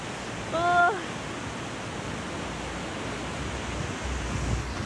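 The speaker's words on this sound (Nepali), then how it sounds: "यो छालले हानेर अलिअलि भिजायो" River water on a boat ride in Bhojpur rushes and splashes steadily against the boat, a dense continuous wash of noise, with a brief high tonal sound near the start.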